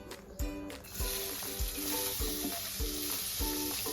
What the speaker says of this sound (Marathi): तेल आता छान तापलंय. आपण त्यामध्ये कांदा टाकू